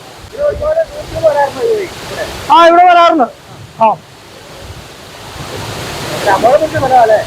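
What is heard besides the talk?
waterfall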